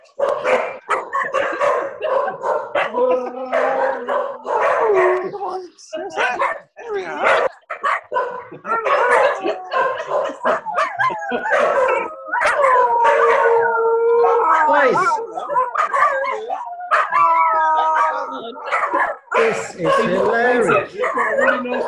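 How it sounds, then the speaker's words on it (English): A Scottish terrier howls and barks close up in long, wavering, continuous bursts with yips mixed in, loud almost throughout, as if joining voices on a video call. "This is one of my two dogs."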